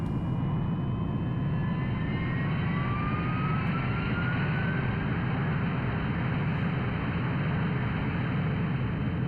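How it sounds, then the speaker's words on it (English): Jet aircraft taking off in the Ace Combat 3 video game: a steady, loud engine roar with rising whining tones that climb over several seconds, continuous and alone without speech. "Cleared for takeoff."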